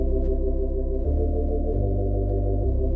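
A sustained chord on a Lowrey Marquee organ holds steadily for three seconds, with the bass notes shifting twice beneath the held upper tones, loud and alone without voices.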